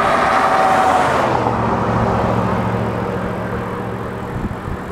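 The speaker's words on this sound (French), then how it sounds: "Attention, il va y avoir un petit peu de bruit, la voiture qu'on croise." An oncoming car passes on the Cassiar Highway, a broad rushing whoosh that peaks early and fades into steady road and engine noise from the moving vehicle.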